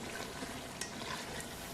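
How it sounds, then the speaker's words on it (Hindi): Masala fries quietly in a pan for mutton paya, a soft steady sizzle with faint stirring scrapes, with no talk. "ये देखें अभी मसाला कितना अच्छा भून रहा है।"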